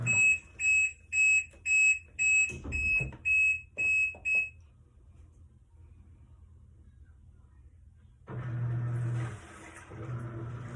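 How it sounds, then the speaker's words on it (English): A Pan6320W portable washing machine gives a rapid string of about eight loud, evenly spaced electronic beeps, then falls quiet before water begins rushing in. "I tried to do it last video, but it kept beeping at me"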